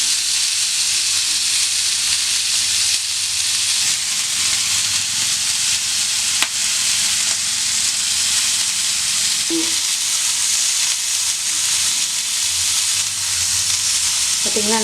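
Tandoori chicken pieces sizzling on a dosa griddle over a gas stove, a loud continuous hiss of frying with occasional clinks and faint turning sounds, close and steady.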